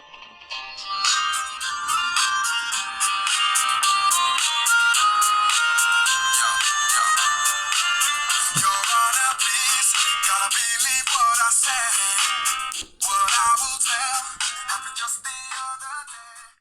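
A bright, busy test song plays continuously through a small MP3 player's external speaker, loud and slightly tinny, with one short dropout near the end.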